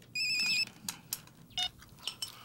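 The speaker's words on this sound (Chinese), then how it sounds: "电话啦" Telephone ringing in a home: short electronic ring bursts in a repeating pattern, moderately near, among quiet room noises and soft clicks, with no speech.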